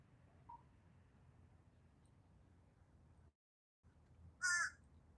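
Crows caw loudly in the morning outdoors near a walking path by courts, one short clear call standing out over a quiet background hiss.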